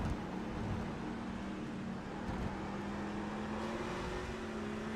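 Engine of a number 77 Vantage race car in a racing video game on the COTA circuit, a steady droning note held throughout with a faint pitch rise near the end, alone with no talk.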